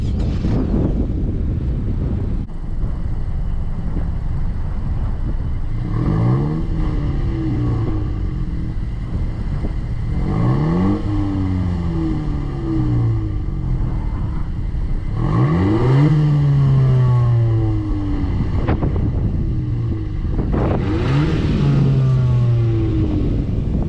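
A 10th gen Honda Civic Si fitted with a MAPerformance race exhaust and front pipe revs hard about five times, each loud rise and fall of the engine separated by short idle gaps, with wind buffeting the microphone.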